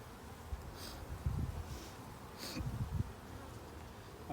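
Honeybees hum around an open backyard hive, a faint steady drone with a few low rustles and thumps nearby, no voices.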